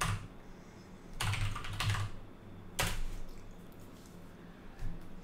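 Computer keyboard typing in a few short bursts, soft nearby key clatter coming in clusters with quiet pauses between, no voice over it.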